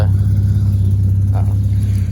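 Car engine with a modified exhaust, a steady deep rumble close by, idling and lightly revving with a little throttle swell midway, no talk over it.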